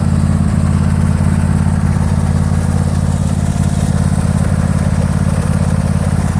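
A John Deere LA150 lawn tractor engine running at a steady idle, a loud, close, continuous low mechanical drone with a constant rhythmic chug throughout.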